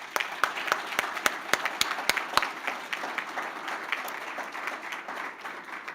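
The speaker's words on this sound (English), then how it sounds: "Let us give another round of applause." Audience at a Veterans Day celebration giving a steady round of applause, dense clapping throughout with a few sharp, close individual claps standing out early on.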